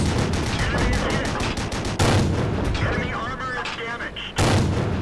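Tank guns in a World of Tanks battle boom repeatedly, with rapid sharp shots in a steady rhythm followed by two heavier blasts, loud and close.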